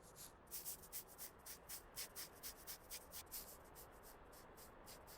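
Sandpaper rubbing over a car body in Car Dealer Simulator, a steady series of about fifteen quick, even back-and-forth strokes, close and fairly quiet, with no talking.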